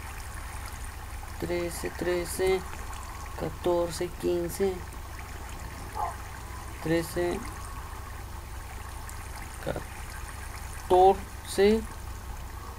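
Water flows steadily in a video game as a soft, continuous trickle, heard under a man counting numbers aloud.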